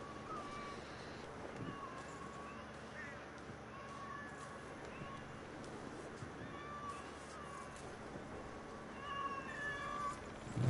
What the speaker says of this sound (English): It's a lot of kittens.